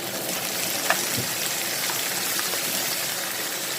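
Pieces of moray eel fish dropped into a hot pan keep up a dense, even frying hiss with a faint knock early on, close by and with no talking.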